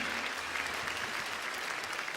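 Audience applause after a song at a concert, a continuous wash of many hands clapping at moderate distance, steady and fairly quiet throughout the short stretch.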